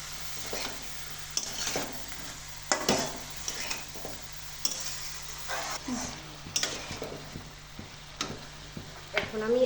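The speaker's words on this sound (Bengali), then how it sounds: "এখন একটু নেড়ে চেড়ে একটু ভাজা ভাজা করে নেব।" Coriander powder, salt and spices are stirred and fried in a pan, with a soft steady sizzle under repeated scraping and clinking strokes of a spoon against the pan, close up, with faint talk at times.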